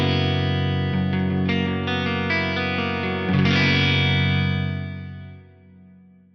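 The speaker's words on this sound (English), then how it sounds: "One of my favorite reverbs is this South Church mode, which is right here at the stock settings." Electric guitar through a JTM45-style amp tone with a South Church reverb mode, sustained chords ringing with a lush, long heavenly wash that slowly decays to silence.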